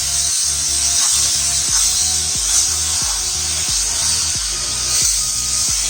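Rhythmic scraping strokes of a spoon working ground grapes and semolina for grape barfi around a pan over low gas flame, repeating about twice a second over a steady close hiss, with no talking.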